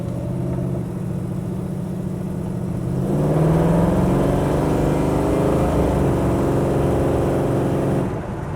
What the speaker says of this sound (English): gonna give it a little gas here so you can get an idea of the power that comes out of this thing.